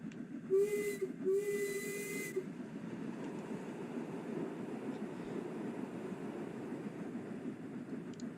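A steam locomotive in Train Sim World 2 gives two short whistle blasts in quick succession, then a loud steady hiss of escaping steam carries on alone.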